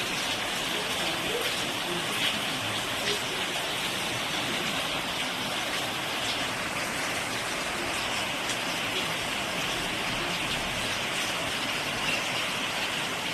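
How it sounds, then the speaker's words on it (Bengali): Steady rain pours down around a home, a dense, even hiss of drops on surfaces that holds constant throughout without pauses. "এখন আবারও বৃষ্টি এসেছে, একটু বৃষ্টি কমছে তো আবারও বৃষ্টি হচ্ছে"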